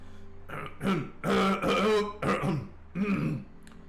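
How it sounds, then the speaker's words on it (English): Someone clears their throat repeatedly in drawn-out, gravelly bursts, four or five rasping pushes in a row with short pauses, close and fairly loud. "Just clear your throat for an uncomfortable amount of time."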